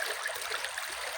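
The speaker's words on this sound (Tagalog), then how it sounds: "eto dito po ako sa ilog ngayon" A river stream flowing, a steady close hiss of rushing, trickling water, quiet and unbroken, with no voices.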